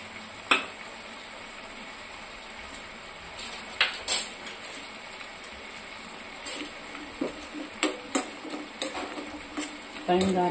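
Chicken fry being stirred in a pan, with a spoon scraping and clinking against the metal over a soft sizzle, in scattered bursts of clatter close by.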